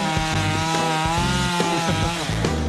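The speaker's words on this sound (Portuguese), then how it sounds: "Motosserra" A chainsaw cutting a tree, its engine buzzing loud and close with a rough, pulsing rhythm as the chain bites into the wood, running continuously with no talk.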